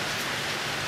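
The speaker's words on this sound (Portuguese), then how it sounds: "Está chovendo, vocês podem ver aí." Rain falls steadily and densely outdoors, a continuous close hiss of drops on surfaces with no voices over it.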